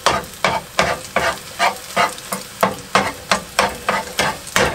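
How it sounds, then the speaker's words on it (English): An egg frying on high heat in a pan while cooking inside a van: about a dozen evenly spaced scraping strokes, each with a burst of sizzle, close and fairly loud with no talking. "Just get the egg cooking."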